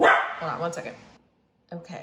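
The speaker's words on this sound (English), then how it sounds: "so that was my dog. His name is Tux." A pet dog named Tux gives a short bark indoors, close and fairly loud, mixed in with a person talking over it, followed by a brief pause and more speech.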